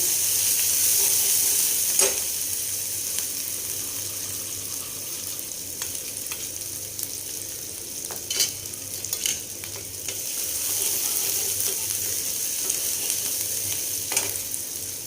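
Spice and cumin paste frying in a pan while being stirred, with a steady hiss of sizzling and occasional scraping clicks of the spoon against the pan, continuous and close, no talking.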